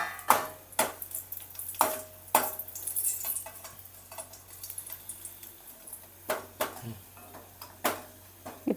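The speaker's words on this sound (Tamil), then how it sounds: "பெருங்காயம் வந்து நல்லா வெள்ளையாக நல்லா பொரிஞ்சு வரணும்." Asafoetida pieces fry in hot oil in a pan, a soft sizzle under intermittent clinks and scrapes of a spoon stirring against the metal vessel, close and moderately loud.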